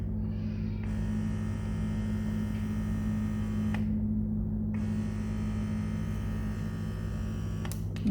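A Crown electric breast pump running at a stronger suction setting gives a steady, loud motor hum with a high whine on top that cuts out briefly near the middle, then resumes. It runs alone with no talk.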